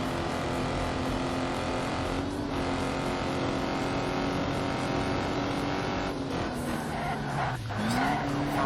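Ford cars race in the video game Ford Racing 3. A steady engine drone runs under squealing tyres and skids, with pitch shifts as the car accelerates.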